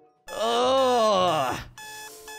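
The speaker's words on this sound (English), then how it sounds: "why is the alarm going off?" A Roblox alarm clock goes off with a bright electronic beeping pattern, loud and close, right after a voice groans loudly.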